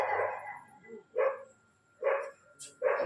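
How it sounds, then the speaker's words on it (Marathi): A dog barks three times in short, loud bursts spaced about a second apart, fairly close, during an outdoor devotional discourse, with a faint lingering tone before the first bark. "परत कोणी म्हणायला नको, कुत्रे सुद्धा नव्हते."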